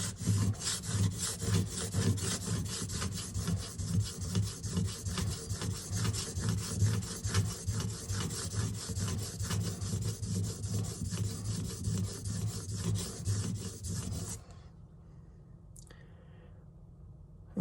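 A steel scissor blade is sharpened with a hand file, giving a continuous rhythmic rasping of steady back-and-forth strokes, close and loud, for about fourteen seconds before the scraping stops and only quiet room tone remains.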